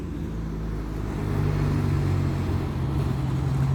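Steady low rumble of congested rush-hour traffic on a sunken road in England on a cold evening, cars idling and creeping past nearby in a continuous drone with a slight swell midway, no voices.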